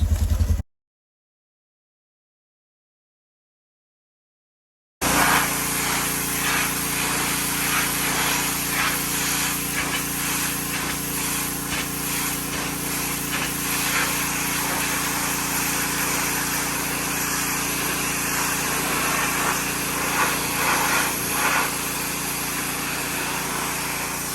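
A Kawasaki Mojave 110 ATV engine runs steadily at close range, a loud continuous mechanical drone that holds an even level after a brief start and a few seconds of silence, with no talking.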